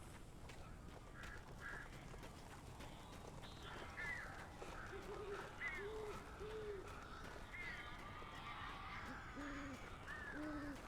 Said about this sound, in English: God, that's a lot of birds.